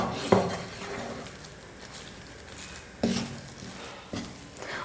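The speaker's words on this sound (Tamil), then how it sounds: "இப்போ இது எல்லாத்தையும் சேர்த்து நல்லா மிக்ஸ் பண்ணிக்கணும்" A thick ground chana dal mixture is stirred in a pan on the stove, giving three separate scraping knocks of a spoon against the pan over a quiet background, with no voices.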